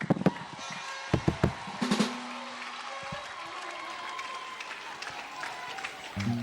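A church congregation claps and cheers for Jesus at a Saturday worship service in Garoua: sharp bursts of applause give way to a sustained, slightly distant murmur of cheering voices, with a low tone entering at the end.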